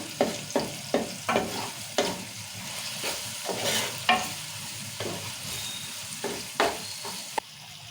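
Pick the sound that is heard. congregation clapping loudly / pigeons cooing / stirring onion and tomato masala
stirring onion and tomato masala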